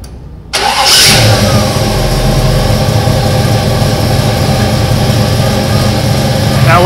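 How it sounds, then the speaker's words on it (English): A Chevelle's engine cranks and catches, then settles into a steady, loud idle with an even rumble that holds without pause, no voices over it. "Now, with the car running at idle,"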